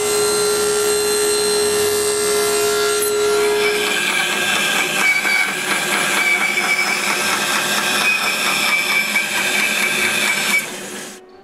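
A power tool whines steadily for about eleven seconds, cutting the old-wood guard for a homemade wooden jointer. The tone shifts partway through as the blade meets the wood, then cuts off abruptly at the end.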